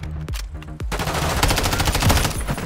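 Dense automatic gunfire from Call of Duty: Modern Warfare 3 (2023) in a multiplayer match, opening with a few sharp separate shots before turning into a loud, sustained stream of rapid bursts.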